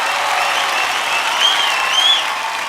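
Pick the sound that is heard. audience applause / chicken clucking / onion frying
audience applause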